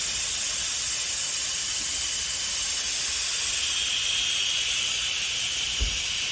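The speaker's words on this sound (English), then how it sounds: "we just want to let all that steam escape" Steam hisses steadily out of a pressure cooker vent during the cooking of beef stroganoff. The loud, broad rush holds constant and alone for the whole stretch, with a faint low thump near the end.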